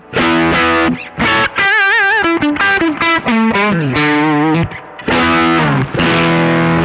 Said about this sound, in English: what you hear right now is just the amp running through the speaker, the amp's natural gain sound